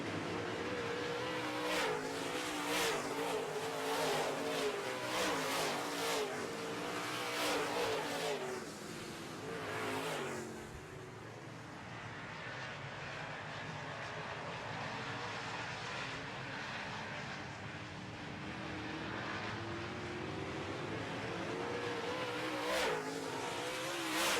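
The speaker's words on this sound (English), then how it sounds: "8th place starter Ward Emery is working on 4th place right now in the 10 car" Modified race cars roar around a track, several engines swelling and fading as the cars pass at a distance, at moderate loudness and continuous throughout.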